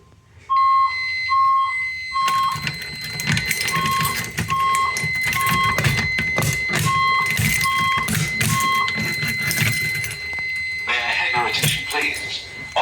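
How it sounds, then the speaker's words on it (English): An Edwards fire alarm system triggered from a pull station sounds repeated short electronic beeps, then loud continuous horn-like alarm tones layered with pulsing strobes of sound, feeding into a voice evacuation system; a voice comes in over the alarm toward the end. "Once the fire alarm is activated, the relay I showed you will switch over to the voice evac."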